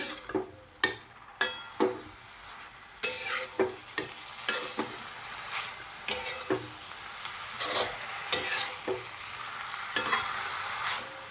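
Hadga flower bhaji is stirred in a pan, a spatula striking and scraping the metal in repeated sharp clacks, roughly once a second, over a faint background sizzle.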